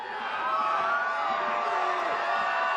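A large crowd cheers and whoops at Scott Walker's 2012 recall election victory speech, a loud, continuous roar of many voices with no pause.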